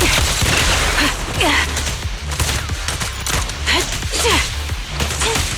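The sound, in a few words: fire support gunfire in video game Zenless Zone Zero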